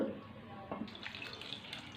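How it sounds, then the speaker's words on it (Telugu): Cold water pours and splashes briefly into a vessel, a short gushing rush heard up close. "చల్లటి వాటర్ పోసుకోవాలి."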